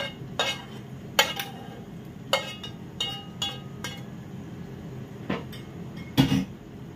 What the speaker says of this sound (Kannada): ಫ್ರೈ ಮಾಡಿಟ್ಟಿದ್ದೇವಲ್ಲ ಆ ಬೆಂಡೆಕಾಯಿಯನ್ನು ಹಾಕುವ